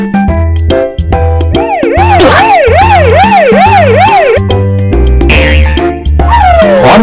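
An animated ambulance siren wails loudly in rising and falling sweeps over bright chimes and cartoon music, sounding close and continuous, with a second tone sweeping down near the end.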